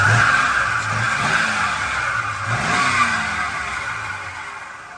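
A pickup truck engine with a cable throttle rumbles steadily up close, briefly revving up and settling back, with a high whine riding over the low drone.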